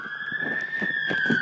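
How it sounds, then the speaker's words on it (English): Police car siren wails as it approaches, a steady loud tone sweeping slightly while a faint voice sounds underneath. "There's a police car coming."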